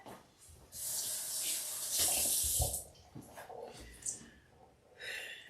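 Tap water running over jackfruit pieces being rinsed in a kitchen, a soft hissing stream in two longer bursts followed by shorter splashes and handling noises, fairly quiet.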